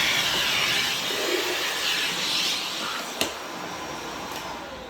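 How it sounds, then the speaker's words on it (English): A vacuum cleaner runs steadily at close range, sucking up plastic shavings from a freshly drilled amplifier panel jack hole, with a constant loud whooshing roar and one brief knock near the end. "I'm just going to vacuum out"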